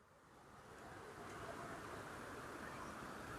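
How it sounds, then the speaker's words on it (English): Powerful river water rushing through a canyon near Liberia, Costa Rica, a steady loud broadband roar that swells slightly in the first second and then holds constant, with no voices. "Powerful, powerful water."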